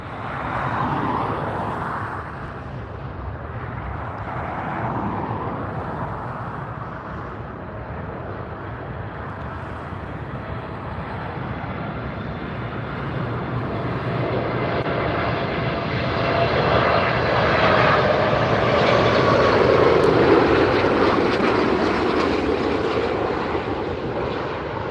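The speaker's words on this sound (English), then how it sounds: "Wow, what a beautiful landing." A large airplane lands at LAX airport, its engine roar swelling steadily louder to a peak near the end before easing slightly, heard outdoors from nearby.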